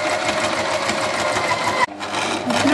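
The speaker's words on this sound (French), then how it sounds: "Angle droit, on plante l'aiguille, on tourne, on lève le pied, on tourne le tissu." A sewing machine stitches a removable Peter Pan collar, running with a loud, steady mechanical whir. It briefly stops near the end, then starts up again.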